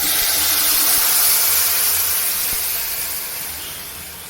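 Tomato liquid poured into hot oil tempered with mustard seeds and asafoetida gives a loud, steady steam-like sizzle and hiss that fades gradually, with no talk.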